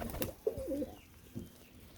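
A pigeon gives a short, close coo: a couple of low, throaty warbling notes, then quiet.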